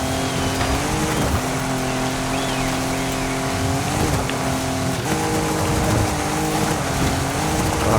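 Ford Raptor pickup truck in the Forza Horizon 6 racing game, its engine droning steadily with a few shifts in pitch as gears change, loud and up close with no talking.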